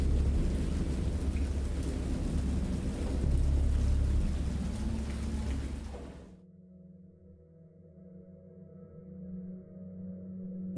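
A great storm with heavy rain and thunder near a boat, a loud dense roar of rain and rumbling for about six seconds, then cut off abruptly to a faint low hum.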